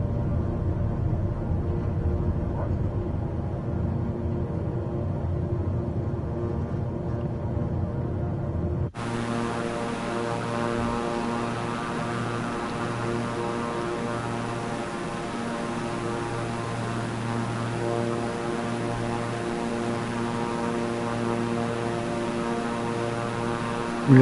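A propeller airplane in Microsoft Flight Simulator 2024 roars up on the runway for takeoff, engine noise jumping sharply louder partway through and holding a steady, droning hum with strong low tones.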